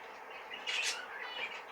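Zebra finches of normal coloration give a brief burst of high, thin chirps and tweets, fairly quiet and close, with a soft cluster of calls peaking midway and fading to lighter twittering.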